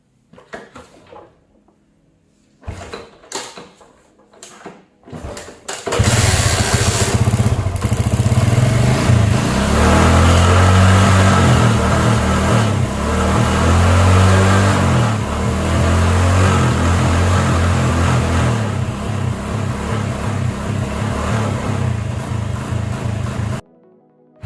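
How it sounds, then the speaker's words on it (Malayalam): A Honda Splendor motorcycle under restoration coughs through a few short failed tries, then starts and runs with a loud, steady idle punctuated by repeated revs, heard up close with no talking. "അപ്പോൾ വണ്ടി സ്റ്റാർട്ടായിട്ടുണ്ട്"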